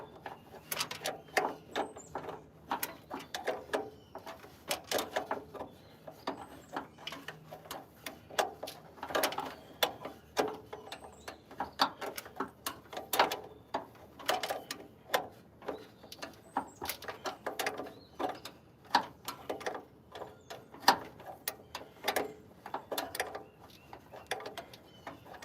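Small metal parts of a 1929 Buick's original fuel pump being tightened by hand: faint, irregular clicks, taps and scrapes of tool on metal, close by in a quiet room.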